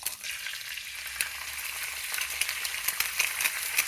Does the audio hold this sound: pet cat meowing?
no